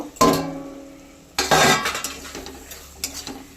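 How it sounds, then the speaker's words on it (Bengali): A metal lid lifted off a cooking pot of garlic and flat beans, a loud metallic clank followed by scraping, clattering pot sounds and a softer clink near the end. "2-3 মিনিট হয়ে গেছে, ঢাকনাটা খুলে নেব।"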